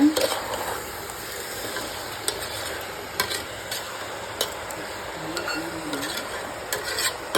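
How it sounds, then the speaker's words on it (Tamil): Chicken curry with rock salt being stirred in a pan: a steady scraping, rasping stir over a low sizzle, with irregular sharp clicks of the spoon against the pan, close and continuous. "கல்லுப்பு ஆட் பண்ணிக்கலாம் நல்லா கிளறி விட்டுக்குங்க"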